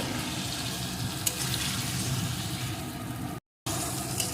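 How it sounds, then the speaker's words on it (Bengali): Salt-and-turmeric coated prawns fry with cabbage in a pan, a dense steady sizzle filling the clip, close and fairly loud, broken by a brief gap near the end. "এখন মাছটাও এর সাথে একটু ভেজে নেব"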